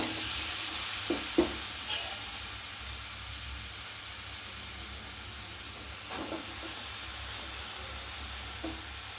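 Colocasia stems and leaves cook in a pan with a soft, steady hiss and low sizzle, broken by a few light scraping stirs and clinks.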